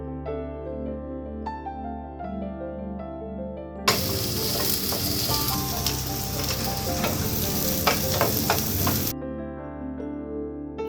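Garlic and green chilli hit hot oil in a pan with a sudden loud sizzle that holds steady for about five seconds, crackling close by over soft background music, then cuts off.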